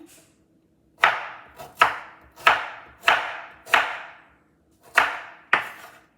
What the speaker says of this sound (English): you want to cut up your ginger